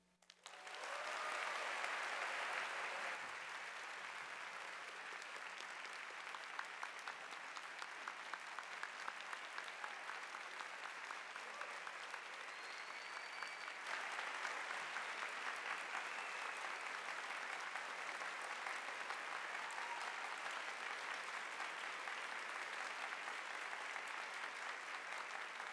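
Sustained applause from a commencement ceremony audience, a dense wash of clapping that rises quickly, holds steady for over twenty seconds and swells slightly again midway, heard from a distance in a large hall.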